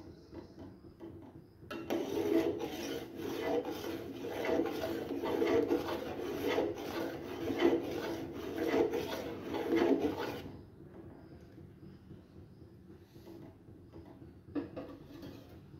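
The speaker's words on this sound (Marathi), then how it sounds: "असं सतत ढवळत राहायचं आपल्याला." Milk being stirred continuously in a pan over a gas flame while cooking down into homemade khoa, a steady scraping rub of the spoon across the pan bottom for several seconds, then quieter.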